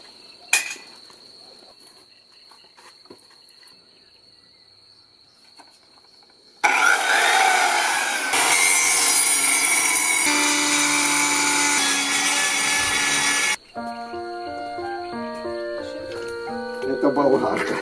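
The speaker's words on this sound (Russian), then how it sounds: "Это болгарка. Она все, что угодно делает." An angle grinder runs with a loud, harsh, broadband whine for about seven seconds, then stops abruptly. Quieter stretches come before and after.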